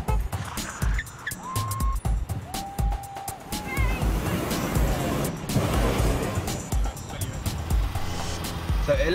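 A hydrogen-powered hybrid car at the Eco Rally 2010 drives at around 80 mph, giving a steady road and wind rumble with clicks and a few tonal squeaks, while a voice speaks over it.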